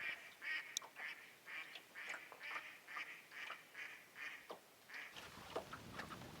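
A duck near a fishing spot quacks in a steady run of repeated nasal calls, moderately near, with faint outdoor background and no talking.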